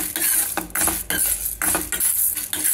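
Urad dal lentils dry roasting in a pan toward golden brown, stirred steadily so dry grains scrape and rattle against the metal in close, repeated strokes with brief pauses.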